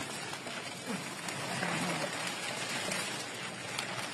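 Rain falling steadily around an auto repair garage during a Hyundai Accent shock replacement, a soft continuous hiss of drops on surfaces at low, even volume.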